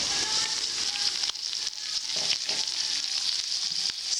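Carrots hit a hot pan for chicken chop suey, setting off a loud, steady hiss and crackle with a few bursts and clatter as they settle, close-up and continuous.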